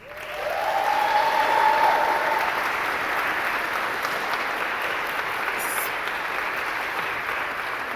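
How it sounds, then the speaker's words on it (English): Sustained applause from an audience honoring a teaching award recipient, a dense steady wash of clapping that swells in the first seconds and holds at a loud, even level throughout. "Audience, please give each honoree a huge round of applause"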